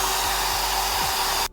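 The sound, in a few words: hair dryer drying glue on a shoe sole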